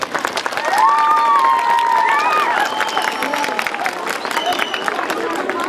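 An audience of young people claps and cheers loudly for the mayor at a clean-environment event, a dense burst of applause mixed with shouts and crowd babble, rising quickly and holding steady.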